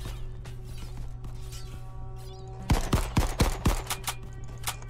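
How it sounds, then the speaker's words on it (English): Gunfire in the multiplayer video game Crab Game: after a stretch of quieter game noise, a rapid string of about six loud, sharp shots rings out close by, then fades. "I have a weapon and I'm not afraid to shoot."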